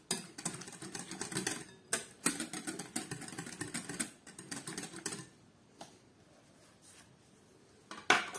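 A spoon stirs sour cream into pie filling in a bowl, making quick clinking scrapes in uneven bursts that ease into quieter gaps, ending with one sharp knock against the dish.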